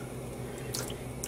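White vinegar goes into a dye pot on the heat, giving a few faint, quick drips and small splashes in short bursts over a steady low background hum.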